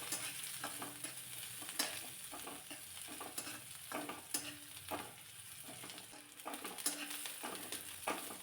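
Finely chopped medium onion sautéing briefly in a pan makes a quiet, steady sizzle broken by repeated stirring scrapes and clinks at an uneven rhythm, with no talk over it.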